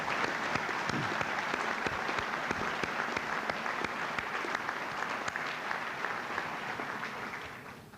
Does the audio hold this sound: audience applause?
yes